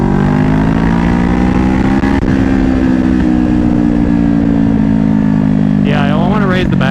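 A motorcycle engine drones steadily during a ride, heard close up through a small clip-on mic. It is a loud, constant hum whose pitch dips briefly early on and wavers near the end as the revs shift.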